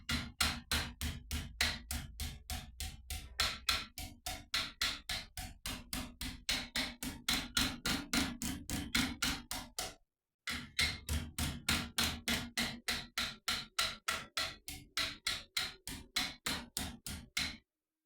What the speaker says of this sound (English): So literally just bounce the hammer off it gently and it will just fold quite nicely.